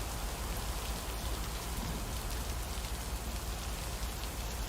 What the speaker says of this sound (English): Let's listen to the rain.